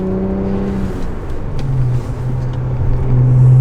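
Steady low BMW engine and exhaust drone from inside the closed cabin while driving with windows shut, a moderate hum that rises slightly in pitch and loudness toward the end.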